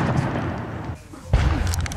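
Heavy New Year's Eve fireworks from a local pyrotechnician, heard from a garden: rumbling crackle, a brief lull, then a sharp loud boom followed by crackling bursts and a voice speaking.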